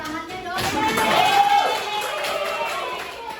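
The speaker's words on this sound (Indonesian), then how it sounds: "berikan tepuk tangannya dong" Children in a sixth-grade elementary classroom clap together, the applause swelling in the middle and fading toward the end, with a voice talking over it.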